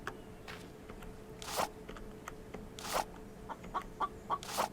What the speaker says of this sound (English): Wait, I heard a chicken.